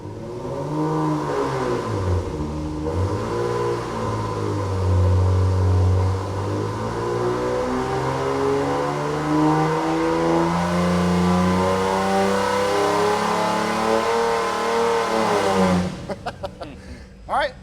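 A mildly modified AMC 258 straight-six, low on compression, revs steadily on a dynamometer, its loud droning engine tone rising gradually in pitch through a long pull before dropping off, followed by a few brief clanks.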